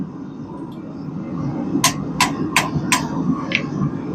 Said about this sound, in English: just kind of do some gentle taps and pull it back